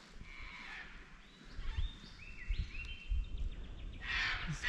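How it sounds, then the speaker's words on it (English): Cockatoos squawk in the bush beside a clear river, a few harsh, scratchy calls at moderate distance over a soft outdoor background, with no talking. "Cockatoos are squawking."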